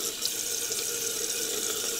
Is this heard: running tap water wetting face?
yes